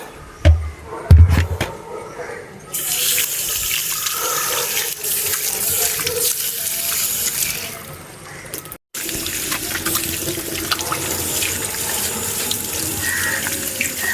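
Harvested turmeric rhizomes washed under a running tap, with a steady broadband stream of water flowing for most of the stretch, a brief pause partway, then the flow resuming, preceded by a few handling knocks near the start.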